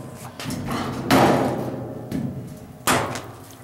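Three heavy metallic bangs from a hammer striking a washing machine being scrapped, spaced a second or so apart, each ringing briefly over a low background rumble.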